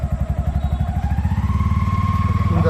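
An auto rickshaw's small engine pulses in a steady low throb, then rises slightly in revs as the clutch is let out, loud and close with no talking.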